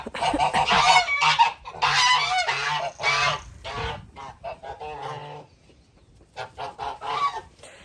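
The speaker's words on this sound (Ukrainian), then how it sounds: "Гуси в шоці." Geese honk loudly and repeatedly close by, a chaotic flurry of harsh calls in bursts with short pauses between.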